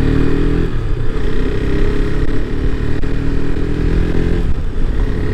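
A motorcycle ridden on a mountain road toward Pangong, with only the front brake working, gives a steady, loud engine drone with low rumble throughout, no talk heard.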